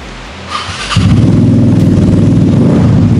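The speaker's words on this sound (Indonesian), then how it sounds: "Ini Vespa pakai Bestri." A bored-up Vespa scooter engine with a Bestri exhaust and Gana Aragon carburettor idles, then fires into a loud, close, steady rumbling burble that continues throughout with a fast, even pulse.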